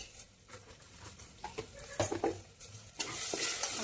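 Chopped tomato is stirred into frying masala rice in a pan, with irregular scraping and clinking from the spoon over a sizzle that swells louder and hissier toward the end.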